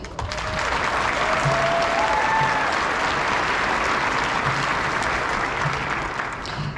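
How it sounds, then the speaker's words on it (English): A crowd at a youth academy cadet graduation ceremony applauds academic achievement, with steady, dense clapping holding loud and even throughout. "All cadets should be applauded for their academic achievement."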